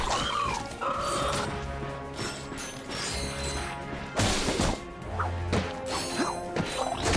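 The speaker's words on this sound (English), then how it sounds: "Look at him smashing crates." Ratchet smashes wooden crates in the Ratchet & Clank video game on Planet Veldin, giving repeated sharp crashing whacks and splintering bursts over game music and mechanical effects.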